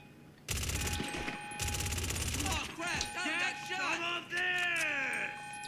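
Rapid enemy gunfire in GTA 5 Online, two loud sustained automatic bursts in quick succession, followed by someone talking.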